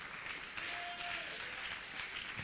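Congregation at a church service applauding, a steady wash of clapping hands filling the room without break, fairly distant and even in level.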